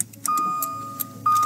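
A car engine turns over and catches, two short cranking attempts separated by a steady tone, close by and fairly loud with no talk.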